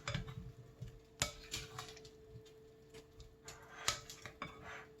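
A spoon clinks and taps against a bowl while stirring a mixture, giving irregular light clicks with a couple of sharper knocks. A faint steady hum sits underneath.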